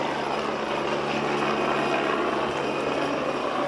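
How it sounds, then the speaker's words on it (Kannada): Helicopter taking off from the helipad at Kedarnath, a loud steady rotor and engine roar, heard alone with no talk. "ಹೆಲಿಕಾಪ್ಟರ್ ನೋಡಿ, ಟೇಕ್ ಆಫ್ ಆಯಿತು."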